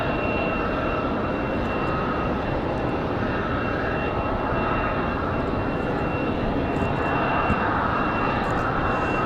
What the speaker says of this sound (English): The internet's Republic Airways 4505, our next arrival. This one coming in from DCA.